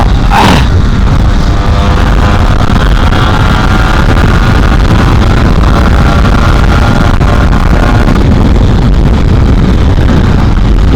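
Modified Yamaha RX100 motorcycle engine running at speed on the road, a loud continuous two-stroke drone buried in heavy wind roar across the whole stretch.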